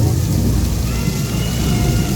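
Simulated thunderstorm effect inside the Rainforest Cafe at Disney Springs: a loud, steady wash of rain-like hiss over deep rolling thunder rumble, continuous and close with no speech.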